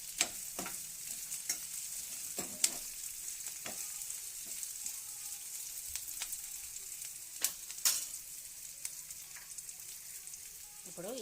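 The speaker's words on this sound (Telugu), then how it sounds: "ఈ పోపు గింజలు కూడా వేసుకుందాం" Cumin, mustard seeds and chana dal tempering in hot oil for a chama dumpala (taro) pulusu, a soft steady sizzle with scattered pops and stirring clicks of a spoon in the pan.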